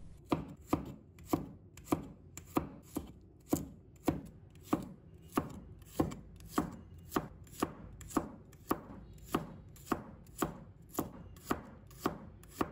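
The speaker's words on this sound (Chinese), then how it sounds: "接下来我们准备1把大蒜，把它切成小块。" A knife chops garlic into small pieces on a cutting board, a steady run of about thirty crisp, evenly spaced taps, close and fairly quiet.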